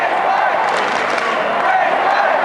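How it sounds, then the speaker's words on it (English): A large stadium crowd at a 1997 Australian football match between Essendon and Brisbane roars and chants steadily, a dense, continuous wall of voices with no individual words standing out. "The crowd chanting Brisbane"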